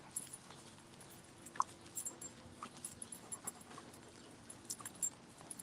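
A dog pants quietly through a walk outdoors, soft rapid breaths with faint jangling and light footsteps, fairly distant and low in level, no voices.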